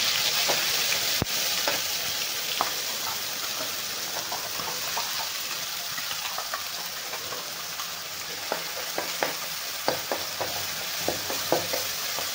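Masala paste frying in oil with cumin seeds and curry leaves, stirred in a pan for a Marathi-style rassa vegetable curry: a steady close sizzle with scattered crackles and spoon scrapes throughout, no voices.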